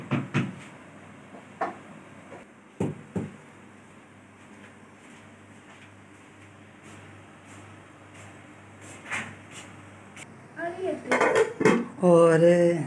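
Pots, pans and utensils clatter in a home kitchen while tea brews and parathas are cooked, with scattered clinks and knocks that grow busier toward the end as a voice joins in.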